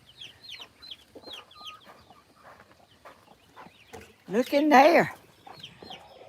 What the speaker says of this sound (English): He's one of my little young hens.